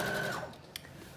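Sewing machine stitching a curved neckline seam on a flutter-sleeve top, a brief whirring run that fades out, ending with a small click.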